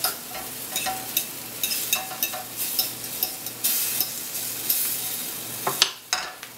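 Chicken marsala with roasted red pepper is stirred in a hot pan, giving a low sizzle under a series of rhythmic scraping and clinking strokes, close and moderately loud, ending with a sharper clatter.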